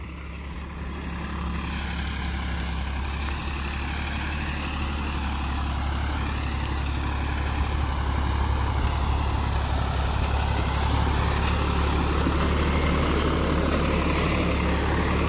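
A tractor pulling five ploughs runs through an agricultural field, its engine giving a steady, loud, unbroken low drone that lasts throughout.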